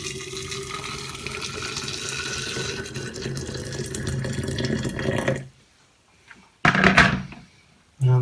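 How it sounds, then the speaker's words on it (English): Hot water runs and splashes into a jar for about five seconds, then stops, followed by a short burst of pouring and a brief trickle. "So let's add our hot water."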